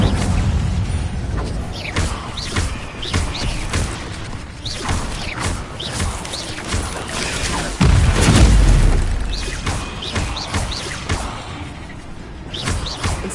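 Incendio fire spell cast repeatedly in the Hogwarts Legacy video game: a string of fiery whooshes and booming bursts amid busy combat effects, with one heavier blast standing out partway through.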